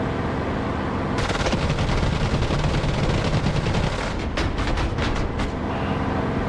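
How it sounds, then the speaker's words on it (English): Rapid bursts of machine-gun fire in a combat flight-simulator game, mixed with the dull thuds of bullets striking the player's aircraft, loud and sustained over a constant engine drone. "You hear all that? Those bullets thudding into me."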